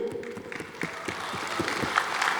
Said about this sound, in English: A round of applause for Vivo.